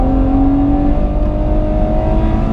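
A Ferrari 812 Superfast V12 pulls hard on the Fiorano track in second gear at three-quarter throttle, a loud steady engine roar with a rising whine held close and continuous throughout.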